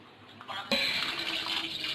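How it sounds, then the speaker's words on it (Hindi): Cold water gushes steadily from a tap over freshly cooked spaghetti in a kitchen, starting abruptly and running as a bright, continuous splash with no talking. "अब हम इस पे ठंडा पानी डालेंगे कि ये आपस में जुड़े नहीं"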